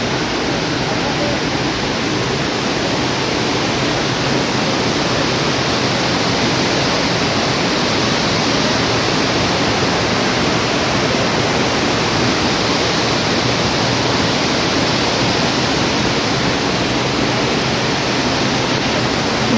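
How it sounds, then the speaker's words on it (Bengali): Roaring water of the Yamuna river streams at Yamunotri, a loud, dense, unbroken rush of torrent noise that holds steady throughout with no pauses. "জলের শুধু আওয়াজটা শুনুন মানে ভয়ঙ্কর আওয়াজ জলের"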